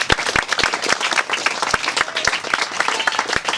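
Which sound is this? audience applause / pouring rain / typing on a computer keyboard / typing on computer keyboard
audience applause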